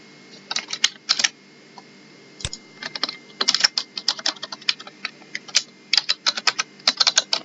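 Fingers type on a computer keyboard in irregular bursts of quick key clicks with brief pauses between, one heavier keystroke standing out, close and clear against a faint steady background hum.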